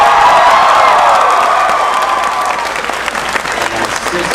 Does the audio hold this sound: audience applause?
yes